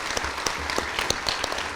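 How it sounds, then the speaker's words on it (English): Audience applause for a speaker at a talk on UK elites and right-wing politics, a steady dense patter of many hands clapping throughout, moderately loud and with no voices over it. "Please give Tom a big round of applause."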